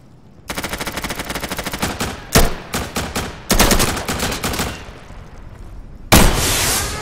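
Gunfire in the video game Insurgency: long rapid bursts of automatic weapon fire, close and loud, broken by single heavier shots and brief pauses, with another burst near the end.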